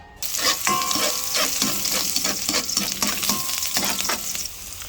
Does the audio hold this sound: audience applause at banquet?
no